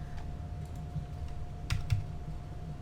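Keys tapped on a computer keyboard during a paste shortcut, a few soft clicks with two sharper presses close together, over a steady low hum.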